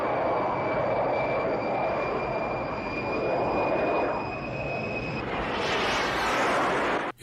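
A new test plane in a film scene, flown by a pilot risking his life, produces a loud, steady roar of aircraft engine noise. A high whine runs under the roar, and the roar swells near the end.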